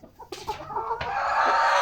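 A hen in a backyard coop with Silver Laced Bantam Wyandotte and bantam breeds gives a run of close, loud clucks that rise into a sustained, agitated squawk toward the end, with no talking.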